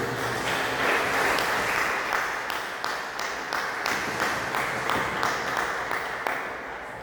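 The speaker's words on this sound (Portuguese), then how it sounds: "dê uma salva de palmas para Jesus Maria" A church congregation at a Portuguese-language evening service gives sustained, even applause that fills the room for several seconds with little speech.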